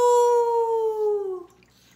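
A lone dog's howl as an audiobook sound effect, one long sustained wavering tone that slowly falls in pitch and fades out near the end, with no talk over it.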